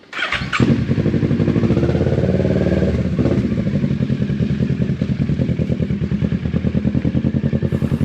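A 2024 Kawasaki Z650 motorcycle engine fires up with a sharp burst and then runs with a loud, rapid pulsing drone while riding off, close to the microphone throughout.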